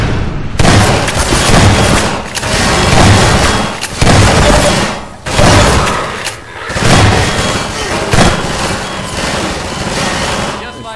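Repeated booming shotgun blasts in Half-Life 2, loud and close, coming in heavy bursts roughly every second or two amid game noise, with someone talking over them.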